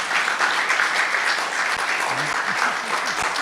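Audience applause at a convocation lecture, steady clapping filling the room for several seconds, with a few low murmurs of voices underneath toward the end.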